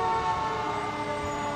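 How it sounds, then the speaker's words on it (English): Several emergency sirens wail together, steady and loud, as fire trucks and police vehicles roll past in a Fourth of July parade in Santa Clarita, with continuous tonal wailing over a dense crowd-street background. "as you can hear all the emergency sirens going off as the fire trucks and police vehicles pass"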